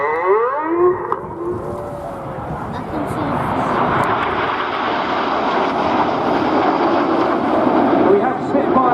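A Spitfire flies in an air display at Scampton, its piston engine a sustained, loud drone that swells after a brief opening whine, with a public-address voice talking over it.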